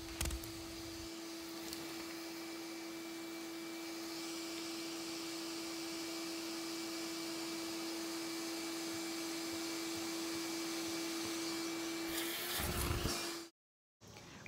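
A vacuum cleaner running steadily in a performance art piece, a constant whine with a strong hum, level and close for about thirteen seconds before a brief rough burst and a sudden cutoff.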